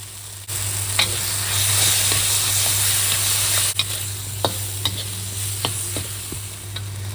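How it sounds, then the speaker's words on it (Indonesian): Steady sizzling of tomatoes stir-frying in a hot pan, with occasional scraping and clinks of a utensil stirring, continuous and close. "Dioseng-oseng terus sampai tomatnya menjadi layu."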